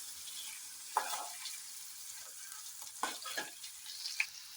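Onion frying in a pan, a quiet soft sizzle with a few sharp spatula scrapes and taps, close and without talk.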